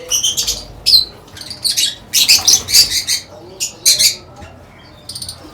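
Lovebirds in breeding cages give sharp, bright chirps and squawks in quick bursts, some overlapping, close and fairly loud, with brief quiet gaps between calls.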